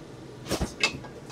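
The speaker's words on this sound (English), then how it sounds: "Pop this in the oven a few more minutes." An oven door swings shut with a soft thud followed by a second dull knock and faint metallic clink, close by and brief, over a quiet kitchen background.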